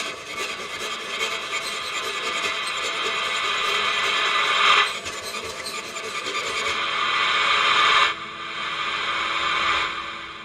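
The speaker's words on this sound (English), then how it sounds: "it's a really deep reverb that also adds a bit of chorus" A horror harp sample played through a deep shimmer reverb with octave-up chorus, heard as a wide, washy, bright sustained wash that swells and cuts off in sections, with no talk.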